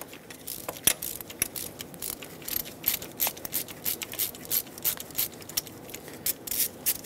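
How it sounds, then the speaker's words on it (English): A 5/8 spark plug socket on an extension breaks a spark plug free in a 2003-2009 Dodge Ram 2500 5.7L V8 engine, giving a close series of rhythmic metallic clicks and ratcheting scrapes without any talking. "Take a 5/8 spark plug socket with an extension if needed, drop it down into the cylinder and break this free."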